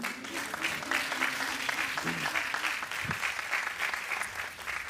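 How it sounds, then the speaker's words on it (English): An audience at a fashion panel discussion bursts into sustained, dense applause to welcome four panelists, a steady wash of many hands clapping throughout with a faint voice briefly underneath. "could you please welcome our four panelists with a warm applause."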